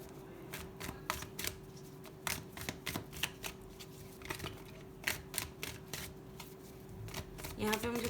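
Tarot cards are shuffled and many spill out during a love reading, a steady series of crisp close card riffles and taps over a faint hum and quiet room tone.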